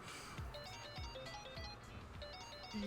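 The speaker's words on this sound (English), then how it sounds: "is that your phone?" A mobile phone rings in the video game Like A Dragon: Infinite Wealth, a repeating electronic ringtone pattern with bright bell-like tones over a low musical background.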